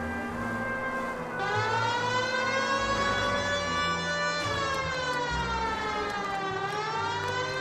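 Police car siren in the video game L.A. Noire, a loud continuous wailing tone that rises and falls slowly, alone and close with a faint rumble beneath.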